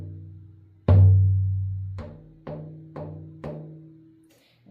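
Shamanic drum: one booming strike rings out and decays, followed by four more deep hits in a slow, steady pulse, each resonating before the next.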